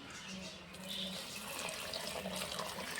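Hot water pours steadily into a pot of tomato rice with a continuous splashing rush that grows slightly louder after the first second, close by and without talking.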